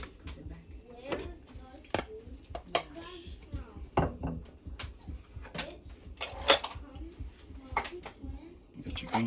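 Beef and ingredients for a stew with okra being tossed into a cooking pot, with scattered clunks, knocks and utensil clatter against the pot, fairly quiet and irregular, while a person talks over it.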